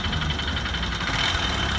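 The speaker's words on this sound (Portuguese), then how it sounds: "Olha o barulho do motor." A Honda Bros 150 motorcycle engine with an abnormal knocking fault and smoking runs steadily up close, a continuous dense mechanical clatter and hum with no pauses.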